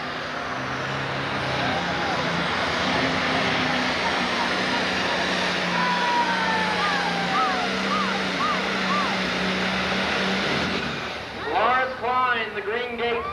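John Deere 4560 pulling tractor roaring at a 1996 tractor pull in Evansville, Indiana, a loud sustained engine drone with crowd and announcer talk over it, tapering off near the end.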